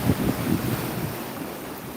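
Ocean waves washing onto a beach, a soft rushing surge mixed with wind noise on the microphone, brief and close, no talk.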